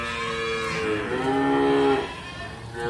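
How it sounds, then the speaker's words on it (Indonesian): A Limousin cow moos at a livestock market, one long drawn-out low call, loud and close, over faint background market noise. "Untuk rata-rata jenisnya adalah sapi limosin."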